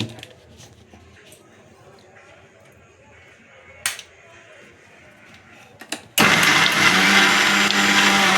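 An electric mixer grinder switching on and grinding roasted peanuts with garlic for chutney, a sudden loud steady whirring roar after some quiet clinks and handling noises.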